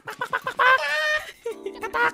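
Chicken clucking in a GTA V roleplay game, a short run of close, loud clucks and squawks, one drawn-out squawk in the middle, with no talk over it.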